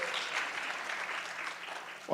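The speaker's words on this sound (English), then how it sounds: "You can applaud him, it's okay." An audience claps for a co-founder being introduced at a live event in Blacksburg, Virginia; the applause is soft and even, then a voice cuts in loudly right at the end.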